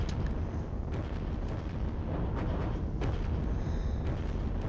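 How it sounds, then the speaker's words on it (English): Artillery fire in the Panzer Battles Kursk war game, a dense rumbling barrage of overlapping booms and blasts, loud and sustained, with several sharper impacts standing out. "here comes some artillery"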